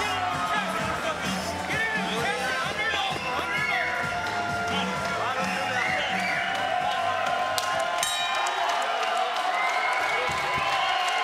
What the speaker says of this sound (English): This crowd really appreciating this fight.